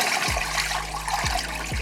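Rinse water streaming steadily over a K&N air filter, a continuous close splashing flow with a few brief low thumps, no voices.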